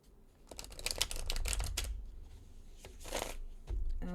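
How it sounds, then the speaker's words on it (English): A deck of tarot cards being shuffled up close, with a rapid riffling flutter of cards in bursts, pausing briefly before another quick riffle near the end. "Let me shuffle this deck."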